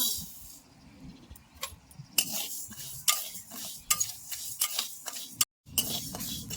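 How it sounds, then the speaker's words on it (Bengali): Mung dal being dry-roasted and stirred with a metal spoon in a pan, making repeated close scraping strokes and clinks with a faint crackle underneath. "এই বাটিতে আমি দুইশো গ্রাম মুগ ডাল নিছি ডালটা এখন সুন্দর করে ভাজি"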